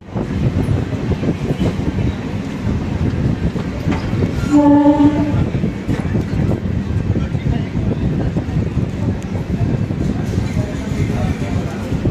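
A train rumbles loudly and continuously close by, departing Ranaghat station, with a brief horn blast near the middle; no talk is heard.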